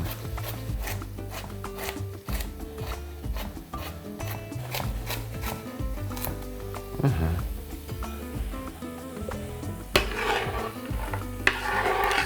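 Diced carrots stirred into fried onions in a pan for a chicken and bulgur pilaf: repeated scraping and rubbing of a utensil against the pan with light clinks, a faint sizzle underneath, and a couple of sharper knocks near the end.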